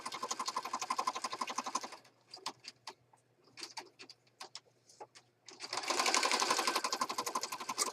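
A sewing machine stitches around the edge of a journal page in rapid steady bursts, stopping for a stretch of scattered clicks and handling noises before running fast again.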